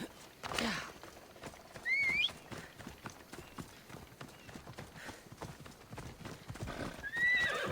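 Horse in a video game galloping with rapid, rhythmic clip-clop hoofbeats throughout, plus two sharp rising neighs, one early and one near the end, fairly close and unaccompanied by speech.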